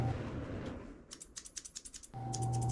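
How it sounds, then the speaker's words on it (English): Scissors trimming the ear hair of a Cavalier King Charles Spaniel during grooming, a quick run of about a dozen crisp snips in a steady rhythm, close by, between stretches of background hum. "I'm just trimming up his ears"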